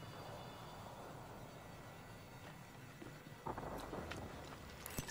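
Crypto's surveillance drone in Apex Legends hovers with a steady, close whirring hum, with a few faint clicks and a brief louder patch near the end.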